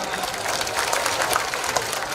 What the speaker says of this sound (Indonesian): Tepuk tangan untuk Gus Miftah